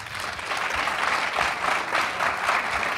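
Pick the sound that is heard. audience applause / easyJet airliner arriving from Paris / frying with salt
audience applause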